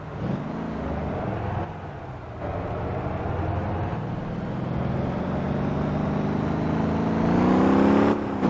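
Swapped-in engine of a VW Volkswagen minibus revving steadily in the Motor Town driving game, a continuous loud drone whose pitch climbs as the van accelerates toward the end, with no voices.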